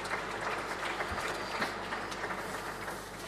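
Applause fills a hall at the DIGI Awards 2022 ceremony, a broad, sustained wash of clapping from a large audience that stays even in loudness throughout.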